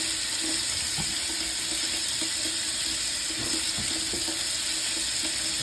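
Steady running cold tap water pours continuously into a sink as food is rinsed, a constant rushing hiss with faint clinks and knocks underneath.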